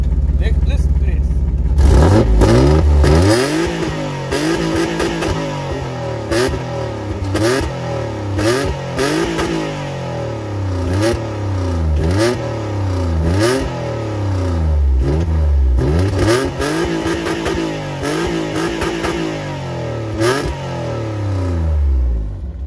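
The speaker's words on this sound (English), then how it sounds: "Come to the front now. Listen to this engine." A Peugeot 406 DTM-style taxi engine revs repeatedly in short rising and falling bursts, loud and close, with a steady rhythm of throttle blips over a continuous running engine.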